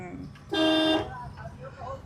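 A car horn blares once in heavy road traffic, a loud half-second honk standing out over engine rumble while people talk nearby.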